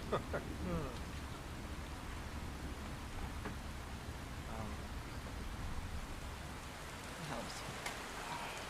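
Rain pours steadily during a stage play, a constant broad hiss throughout with faint voices and small bumps audible underneath.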